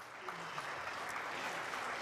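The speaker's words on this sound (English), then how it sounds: "How about a hand clap of thanksgiving for him?" A church congregation gives a hand clap of thanksgiving during a sermon, faint, distant clapping spread evenly across the room with no voices standing out.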